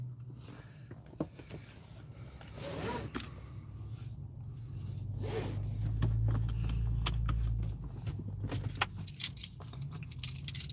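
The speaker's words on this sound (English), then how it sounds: "That was my keys in the truck." Keys jangling inside a truck cab, a series of light metallic clinks and rattles scattered through the clip over a low steady hum of the vehicle, fairly close but not loud.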